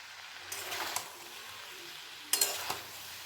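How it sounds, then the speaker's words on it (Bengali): Vegetables mixed with dried chili powder are stir-fried over raised heat for a small-fish chorchori. Two short bursts of spatula scraping and stirring against the pan are heard, separated by a quiet pause. "এবার আঁচ বাড়িয়ে আমি একটু ভাজা ভাজা করে নেব।"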